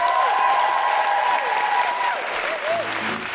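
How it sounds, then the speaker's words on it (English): Live podcast audience applauds with some cheering, a dense steady wash of clapping from a full room that holds loud throughout and eases slightly toward the end. "can I have a big round of applause for my guest co-host, Margaret Cabourn-Smith?"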